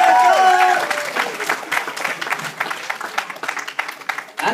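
A theatre audience at a community stage performance breaks into applause and cheers after the host calls for it, clapping starting right after a brief shout and continuing as a dense, fairly close patter to the end.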